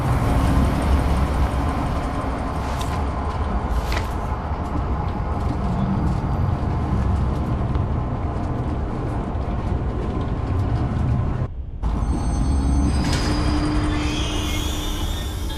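A video game train in the game Zoochosis rumbles steadily along with rattling, clanking wheels and occasional high squeals, a continuous mechanical roar that briefly cuts out near the end.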